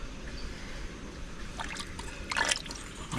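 Water from a fish tank filter outlet flowing and trickling back into a home aquarium holding red tilapia and carp, a soft continuous splashing with a few brighter splashes close by.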